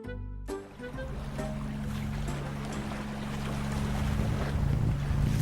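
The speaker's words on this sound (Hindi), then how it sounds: "जहाज को उसी जगह तक ले गया जहां पर उसने विजय को धक्का दिया था" A ship sails across open water in an animated story, with a steady low engine-like rumble, rushing water and wind noise that swells slightly toward the end, loud and continuous with no talk.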